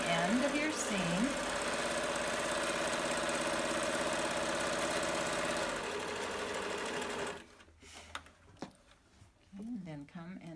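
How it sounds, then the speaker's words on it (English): A sewing machine runs a 1/4 inch seam on a cloth face mask in one steady, close, whirring burst lasting several seconds, then stops; someone speaks before and after the stitching. "you're going to sew down using a 1/4 inch seam, or the width of your presser foot"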